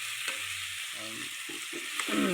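Raw fish coated in turmeric fries in a hot pan, giving a steady crackling sizzle with small pops and spatters that swell slightly toward the end.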